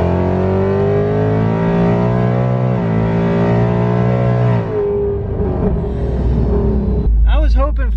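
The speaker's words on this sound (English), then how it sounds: "I was hoping for some blower whine." Ford Mustang with a VMP Odin supercharger accelerating hard, loud rising engine roar with harmonic blower whine that shifts pitch through a gear change, with a person talking over the end.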